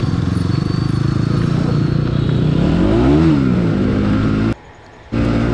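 Several NS200 motorcycles ride through city streets, their engines roaring loud and close with a rising rev and gear shift midway, then the sound cuts out briefly before the engine noise returns.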